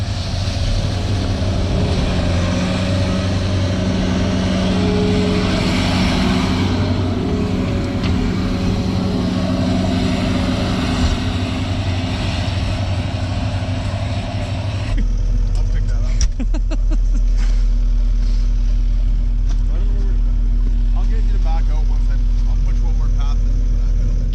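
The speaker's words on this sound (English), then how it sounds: "skid steer out here, and my cousin is clearing us a track" A skid steer clearing a track outdoors in Saskatchewan, heard as a loud, continuous diesel engine drone with steady low rumble and wind noise, shifting in tone partway through as the machine works.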